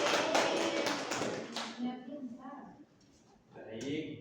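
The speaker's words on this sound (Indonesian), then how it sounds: "Tepuk tangan untuk Ina" A classroom applauds a student named Ina: a short burst of quick, sharp claps fades out after about a second and a half, followed by a teacher's voice.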